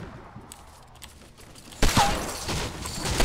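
Gunfire in a video game breaks out after a quiet stretch, a loud fast run of shots that goes on to the end of the clip with no one talking.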